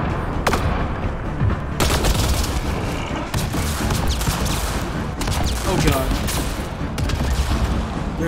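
Sustained gunfire in the sci-fi shooter Mass Effect Andromeda, loud and dense bursts with sharp cracks and booms running continuously throughout, with some voices mixed into the battle noise.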